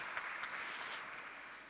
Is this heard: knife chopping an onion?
no